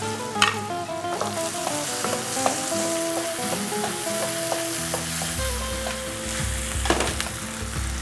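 Butter melting in a hot pan gives a steady close sizzle, with occasional clinks and soft scrapes, and a low music bed runs underneath.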